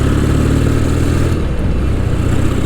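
Royal Enfield Interceptor motorcycle engine pulling hard, a loud, close, continuous throbbing drone with no talk over it.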